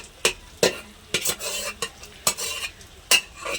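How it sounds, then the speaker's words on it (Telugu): Ginger paste and chicken pieces being fried for a chicken pickle, stirred with a utensil scraping the pan in repeated sharp strokes, each with a brief sizzle, close and clear with no talk. "బాగా అల్లం పేస్టు వేగనిద్దాం."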